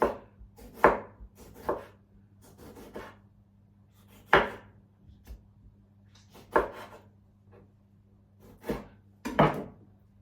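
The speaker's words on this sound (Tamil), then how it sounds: "நான் இந்த வெங்காயத்தை சின்னனா வெட்டி எடுக்க போறேன்" A knife chops onion on a board in a home kitchen, with sharp, separate knocks at an uneven pace, some in quick pairs, close and clear over a quiet, faint low hum.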